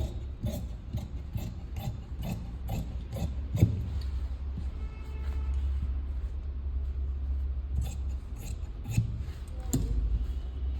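Scissors cut through blouse fabric in a quick rhythm of crisp snips, then pause under a low rumble before a few more close cuts near the end, with no voices.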